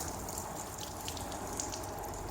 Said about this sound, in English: then it's time to rinse off with a hose pipe